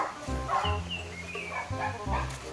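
A dog barks a few times in short bursts, fairly close, with some background noise between the barks.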